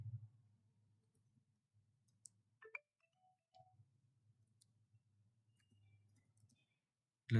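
Computer mouse clicking while logging into a voter ID download website, a few faint isolated clicks spread across a quiet room with a low background hum.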